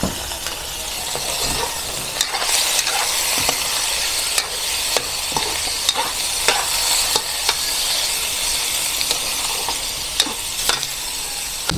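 Pork, garlic and onion sauté together in a hot pan for Nueva Ecija-style tinumis, a steady close sizzle broken by repeated spoon-stirring scrapes and light clinks, with no voices.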